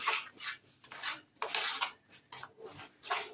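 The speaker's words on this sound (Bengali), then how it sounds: "দিয়ে আমি খুব ভালো করে নেড়ে নিচ্ছি" A utensil stirs thick semolina dough with Kashmiri chili in a pan, rasping scrapes in uneven strokes with short pauses between them, close and moderately loud with no talking.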